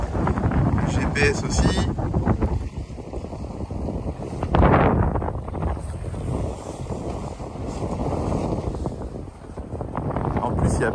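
Wind buffets the microphone aboard a sailboat running at speed on flat sea in breezes over ten knots, with a constant rushing roar and gusty low rumble while someone talks over it in French.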